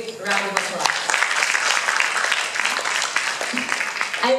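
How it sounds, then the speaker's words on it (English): Audience applause for a guest at a regional food writing event, steady clapping from a room of people with a voice speaking over it at the start and again near the end. "Let's give her a big round of applause"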